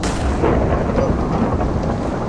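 Thunder during a hurricane in Minecraft, a loud, dense rumbling roar with a rain-like wash that fills the whole short stretch without letup.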